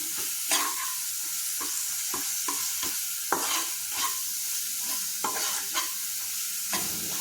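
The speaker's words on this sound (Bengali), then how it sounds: "এই মশলাটা এখন ভালো করে ভাজা ভাজা করে জল দিয়ে দেবো" Spice paste of tomato, onion, ginger, garlic, green and dried chillies and cumin sizzles in a pan, with a steady fry and repeated scraping strokes of a spatula stirring it.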